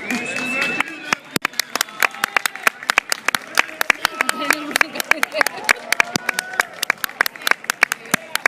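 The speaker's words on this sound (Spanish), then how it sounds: "Hay que ponerse en pie a aplaudir, cuando entren" A festival crowd of Valencia football supporters claps as a team enters, sharp scattered handclaps ringing out over close, ongoing talk.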